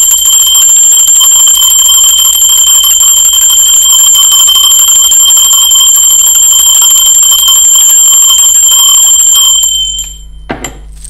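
Bell ringing in a loud, sustained metallic tone with bright piercing overtones for about nine seconds, then cutting off abruptly and followed by a few faint knocks.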